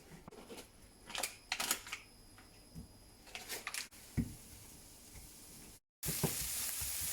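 Onion frying in a pan gives a quiet sizzle under scattered clinks and shuffling kitchen handling noises, broken by a brief silence before a louder burst of sizzling.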